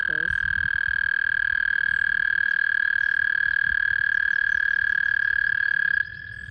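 Early-spring frogs, the first of the season, sing in a steady, dense chorus, a continuous high trill that holds unbroken for about six seconds before dropping sharply quieter.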